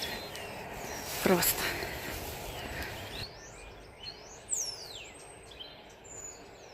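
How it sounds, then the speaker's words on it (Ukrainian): Several birds chirp and sing in a forest, short rising and falling calls scattered over several seconds, fairly faint and distant, with a brief louder burst near the start and background rustle. "Красиво співають пташки."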